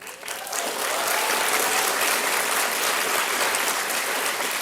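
An audience applauds at a Houston ISD reading program event with Barbara Bush, clapping rising quickly and holding as a dense, even roar of many hands for several seconds.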